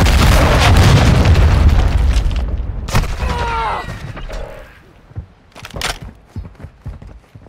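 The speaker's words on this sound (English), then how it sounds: "Hostile cruise missile incoming." A hostile cruise missile strike in Modern Warfare 2 multiplayer lands as a loud, rumbling boom, with sustained heavy blast noise fading into crackling debris and scattered gunfire-like pops.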